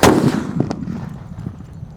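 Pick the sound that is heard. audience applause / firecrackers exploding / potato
firecrackers exploding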